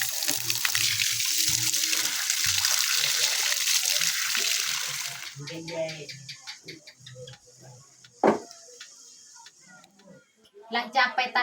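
Water is scooped and sloshed, with a rushing pour at first, then scattered splashes and knocks, and a voice speaking intermittently over it.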